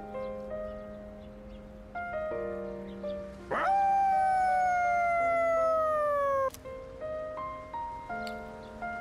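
The dog Koromaru howls in the video game Persona 3 Reload at a quiet shrine, a long rising and falling wail over soft game music, with other tonal game sounds before and after.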